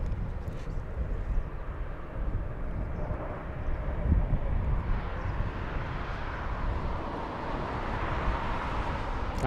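A Boeing 747 takes off at Frankfurt airport, its engines a broad, steady roar that holds through the whole stretch, heard from a distance with wind buffeting the microphone.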